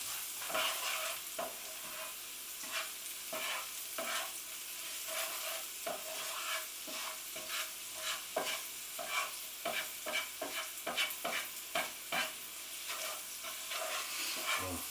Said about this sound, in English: Give those a good couple of minutes to fry.